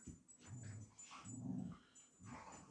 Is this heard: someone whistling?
no